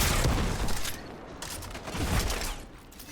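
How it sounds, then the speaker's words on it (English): A Breach and Clear weapon fires in the video game Destiny 2, heavy blasts with booming bursts and mechanical clatter, loud and close within a busy game-combat mix. "Gonna get a Breach and Clear shot on this barrier champion"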